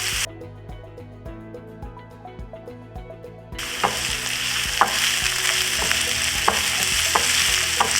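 Onions and garlic fry in a pan, starting as quiet scattered crackles under a low hum, then breaking into a loud, dense sizzle with sharp pops and stirring scrapes, close and steady.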